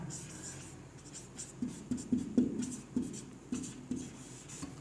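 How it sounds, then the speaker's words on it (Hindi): Handwriting a sentence during a Class 11 maths lesson on sets: a run of short scratchy pen or chalk strokes in uneven bursts, close and moderately loud, with a faint murmur of background voice. "अब मैं आपको एक दूसरा सेंटेंस लिखता हूँ"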